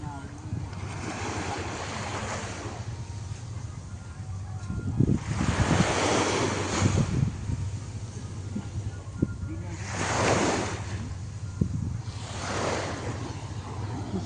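Incoming tide waves wash onto a sea beach in several broad surges, each building and fading over a few seconds, with steady wind noise underneath and a voice speaking briefly.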